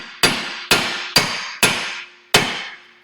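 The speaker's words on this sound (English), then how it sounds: "I've got a brass hammer." A brass hammer taps a stuck steel car part five times, sharp close metallic knocks with ringing decay, evenly spaced then a slight pause before the last, no talk.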